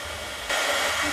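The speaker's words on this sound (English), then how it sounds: "is an embossing gun, it's a heat tool, whatever you want to call it" An embossing heat gun switches on midway and blows a steady, close whoosh of hot air over craft foam to soften it.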